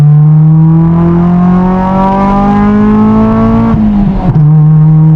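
A Honda Del Sol engine revs through an AKR stainless exhaust, a loud, close, buzzy drone that climbs slowly, then dips and wavers as the revs drop before settling back.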